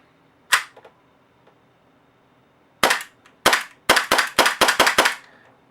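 An airsoft replica running on HPA compressed air fires one sharp pop. After a pause comes a quick string of about eight crisp, loud shots in an uneven rhythm, close by and with no talk.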